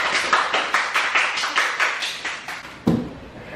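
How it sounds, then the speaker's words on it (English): A small group claps in a steady, even rhythm of about a dozen sharp claps in a kitchen during a baking session, ending with one louder final clap. "Can I get a round of applause?"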